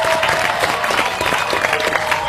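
A studio audience on a live television talk show applauds steadily, a dense, close wash of clapping with no talk over it.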